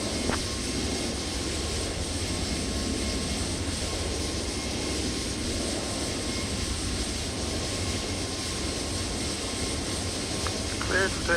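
Toliss A321neo engines spooling up for takeoff in the X-Plane 12 flight simulator, a steady loud jet roar that holds throughout, with faint voices under it.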